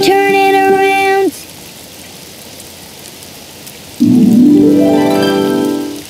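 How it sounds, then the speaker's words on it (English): Steady cartoon rain hiss fills a quiet stretch between bright, sustained musical tones, with a rising, sweeping tone swelling at the end. "It's raining outside."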